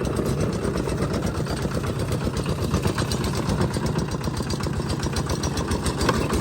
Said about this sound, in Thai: นี่เป็นรถไถ3 เกียร์